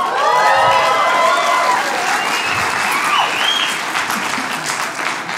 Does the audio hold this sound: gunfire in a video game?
no